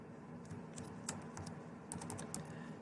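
Quiet typing on a computer keyboard while entering text in design software, with short runs of crisp keystrokes in a few uneven bursts against faint room noise.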